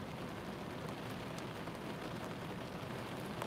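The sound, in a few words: rain falling outside a car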